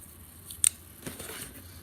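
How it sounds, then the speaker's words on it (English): A small cardboard product box for a lavalier microphone being cut open, with a brief sharp snip followed by a softer scrape of the blade through cardboard, close and fairly quiet. "I'm gonna rip it, and I'm gonna cut it."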